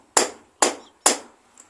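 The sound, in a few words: hammering a screwdriver under a bearing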